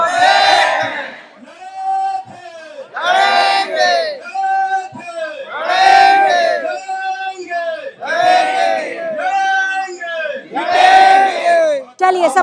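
At a tribal sit-in protest in Chandil, a loud crowd chants slogans together in a repeated, rhythmic call-and-response pattern, with voices swelling in regular bursts over about twelve seconds.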